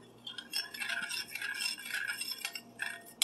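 Lemon juice being mixed into a homemade pizza salsa, soft scraping and light rattling of a utensil in a bowl, close and fairly quiet, with no voices.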